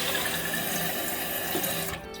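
A toilet tank refilling through a new Fluidmaster fill valve, a steady hissing rush of water that drops off near the end.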